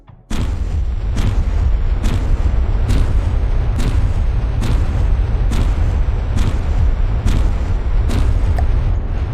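Turret guns in a ship-building video game fire about nine evenly spaced booming shots, nearly one each second, over a loud, constant low rumble, with no voices.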